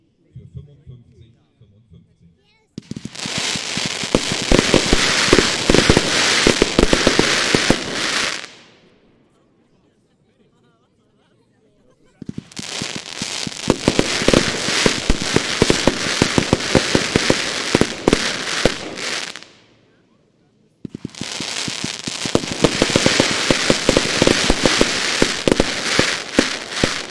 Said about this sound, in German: Dann geht es mit der Nummer 12 weiter, ebenfalls aus dem Hause Katan, die Special, die Nummer 5, 25 mm, 100 Schuss